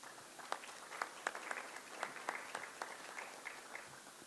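An audience applauds at a government sports-ministry event in Surat: fairly faint, steady crowd clapping with a few sharper individual claps standing out, heard at a distance without talk.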